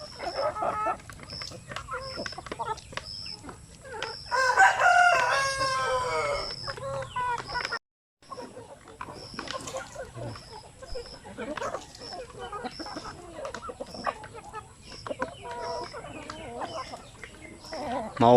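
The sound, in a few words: pet chickens clucking while being fed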